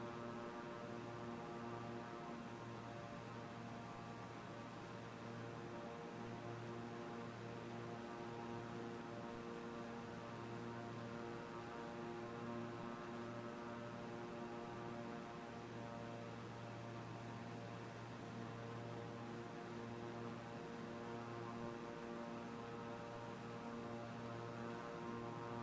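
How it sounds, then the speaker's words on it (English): An airplane cruises steadily in Flight Simulator, a constant droning engine hum with even tonal layers holding unchanged throughout, with no voices. "The plane is actually moving."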